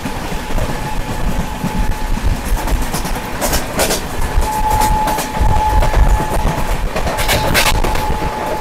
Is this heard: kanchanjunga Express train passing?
yes